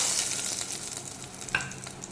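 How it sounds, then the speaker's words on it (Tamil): Appalam kadalai paruppu kootu is stirred in a frying pan with a garlic tempering, giving a steady hissing sizzle and a brief spoon scrape partway through. "ஆட் பண்ணி நல்லா கிளறி விட்டுக்கலாம்"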